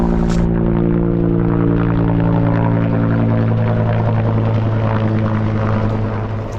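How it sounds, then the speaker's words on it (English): Two firefighting helicopters dropping water on a wildfire a few hundred meters from a house, a loud, steady rotor drone with throbbing low tones filling the whole stretch, near and unbroken. "We've got 2 choppers dropping water within a couple hundred meters of the, oh, maybe 300 meters of the house"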